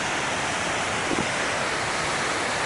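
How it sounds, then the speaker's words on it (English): A waterfall rushes beside the hiking trail to El Tallon, making a steady, loud broadband roar. It stays unchanged throughout, and no one speaks over it. "it looks like I'm gonna have to hike up this waterfall."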